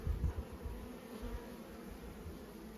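Honeybees buzz busily in an open hive as they build comb, a dense, continuous low hum close by with no voices.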